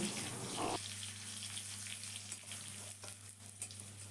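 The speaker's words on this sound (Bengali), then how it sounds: "রসুনটাকে দিয়ে তেলের মধ্যে খুব ভালো করে ভেজে নিতে হবে" Grated garlic frying in oil in a home kitchen, a constant close sizzle after a brief stirring scrape near the start, with no one speaking.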